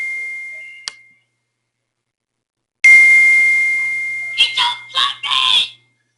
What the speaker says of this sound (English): Sorry about that notification going off.